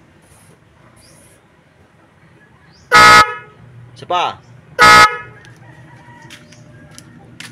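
Two loud, close car horn blasts about two seconds apart from a newly installed horn on a Nissan Serena, with a shorter quieter honk between them, and a brief spoken word nearby.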